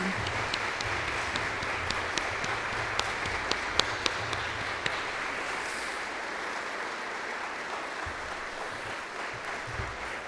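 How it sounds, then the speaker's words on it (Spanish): A church congregation applauds continuously, a dense wash of clapping with a few sharper claps standing out, steady and fairly distant. "aplauso bien fuerte al Señor."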